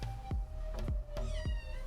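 A kitten meows four times in quick succession, short, high and close, over a faint steady hum.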